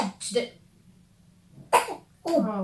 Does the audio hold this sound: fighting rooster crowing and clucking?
no